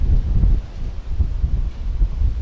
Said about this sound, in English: These winds are pretty strong.